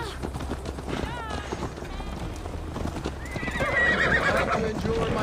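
Horse hooves clip-clop at a riding pace in Assassin's Creed Valhalla, with a neigh and game music and ambience building underneath while a character speaks over it.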